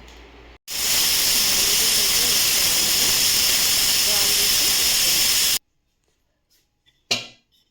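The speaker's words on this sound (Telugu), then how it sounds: "కుక్కర్ అయితే పెట్టేసాము మూడు విజిల్ వచ్చేంత వరకు ఉడకనిద్దాం" A pressure cooker cooking lentils lets out a loud, steady hiss of steam for about five seconds, then cuts off abruptly, followed by a couple of faint clicks.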